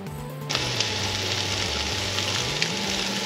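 Spam cut into rough cubes frying in a skillet, a steady broadband sizzle starting abruptly after a brief quiet moment and continuing close and fairly loud, with a low mechanical hum and a few faint clicks underneath.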